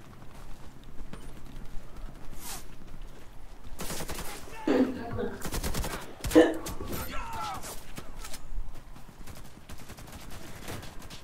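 In a Warface online match on the Cold Peak map, close bursts of automatic gunfire crackle in sharp rapid volleys over steady game noise, with team voice chat in the background.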